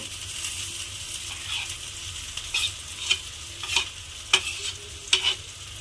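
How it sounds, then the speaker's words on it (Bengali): Grated potato is stirred into fried spices in a pan, a soft low sizzle under a series of distinct spatula scrapes and knocks that come every second or so, close by with no speech. "গ্রেট করা আলুটা আমি এর মধ্যে দিয়ে দিলাম।"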